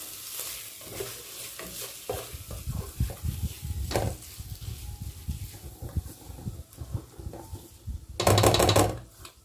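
Turmeric being stirred into saltfish rice frying in a pot, Caribbean style, with a steady sizzle under scraping spoon strokes, close and continuous, swelling into a louder burst of scraping near the end.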